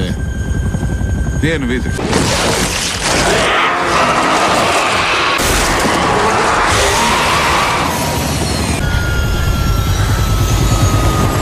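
Helicopter setting down during a film scene, its steady rotor drone loud and continuous throughout, joined by crashing and roaring effects, with brief talk in the middle.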